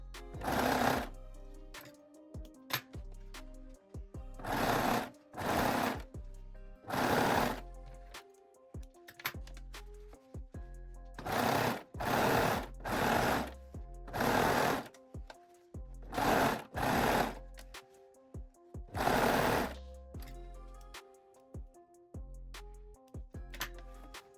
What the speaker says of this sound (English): sew the elastic using a zigzag, 3-step zigzag or a cover stitch machine